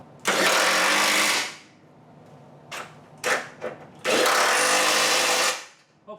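An impact tool tightens the reaction arm bolts on a 350Z in two long loud bursts, close up, with a few short clunks and taps between them.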